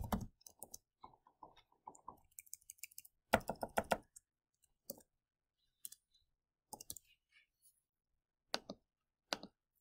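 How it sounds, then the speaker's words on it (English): Quiet, irregular clicks of fingers tapping a computer keyboard, a quick flurry early, then sparse scattered keystrokes, close by. "just typing these in."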